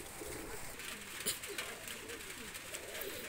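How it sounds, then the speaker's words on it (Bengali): A pair of golden pigeons coo softly indoors, faint short calls over a steady background hiss that may be rain outside. "এক পেয়ার গোল্ডেন কবুতর, খুবই চমৎকার কবুতর"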